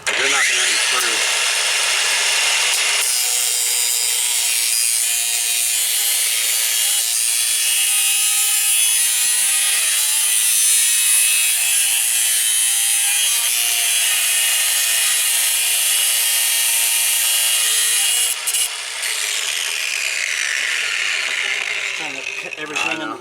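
Power saw cutting off a stuck fitting, a loud sustained high-pitched whine running for about twenty seconds close by, steady throughout before ending abruptly, with no talk over it.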